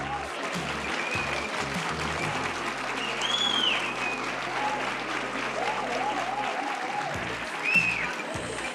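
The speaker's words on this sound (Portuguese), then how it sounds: "ela merece uma salva de palmas em pé" A large conference crowd gives a standing ovation, applauding steadily for several seconds, a dense, sustained roar of clapping filling the space, with a few faint cheers rising above it.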